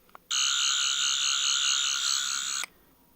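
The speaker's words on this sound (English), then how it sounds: "I honestly think these sound effects are appropriate for, Sonic Screwdrivers from the classic era." A 3rd Doctor sonic screwdriver toy from Doctor Who gives off one steady electronic warbling buzz, loud and sustained for over two seconds before cutting off abruptly.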